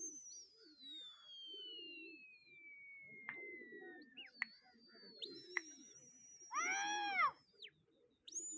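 Pigeon coos and calls ring out at a pigeon-flying contest as the birds arrive, with a long descending whistle-like call, scattered chirps and a louder burst of harmonic calls near the end over low outdoor murmur.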